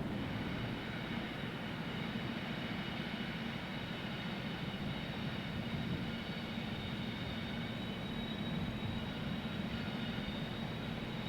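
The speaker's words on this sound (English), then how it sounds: "this train also works a turn between Yard Center and Markham Yard, though this one is exclusively intermodal traffic between the two ramps" An intermodal freight train on Indiana Harbor Belt rails at Dolton Junction rumbles past in a steady, loud, broadband roar that holds evenly throughout with no voices.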